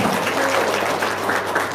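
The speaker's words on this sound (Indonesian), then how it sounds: "tepuk tangan dulu dong" An audience at a motivational seminar gives a short burst of steady applause, a dense, even wash of many hands clapping together close by without any talking.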